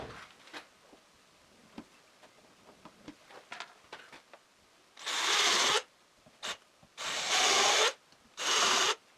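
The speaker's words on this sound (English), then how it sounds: "These V-shaped wood drill bits will help me clean up the holes a bit" V-shaped wood drill bit cleaning up holes in a store-bought board: light taps and scrapes at first, then four bursts of close, harsh drilling, each lasting about a second, with short pauses between.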